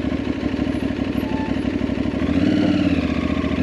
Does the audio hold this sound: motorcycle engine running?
yes